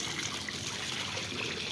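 Cold water pours and splashes steadily during an outdoor bath, a continuous trickling gush with no voices over it.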